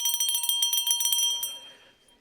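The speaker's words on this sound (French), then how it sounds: "Première cloche." A small hand bell rung during a church sermon gives a rapid series of bright metallic dings, about a dozen quick strikes, then rings out and fades away.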